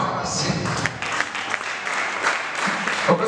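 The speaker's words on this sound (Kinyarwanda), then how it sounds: "Komera amashyi." A church congregation applauds in a steady wash of clapping that lasts throughout, with voices mixed in beneath it.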